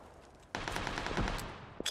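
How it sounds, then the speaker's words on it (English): Gunfire in the battle-royale game PUBG, including an SKS rifle: a sudden burst of rapid shots kicks in partway through and keeps rattling loudly, with one more sharp crack near the end. "They're shooting."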